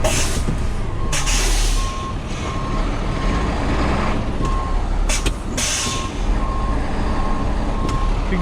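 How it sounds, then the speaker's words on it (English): A tow truck backs up with a steady, evenly spaced electronic reversing beep sounding over its loud idling diesel engine, with a couple of sharp air-brake hisses partway through. "Back my truck up a little bit."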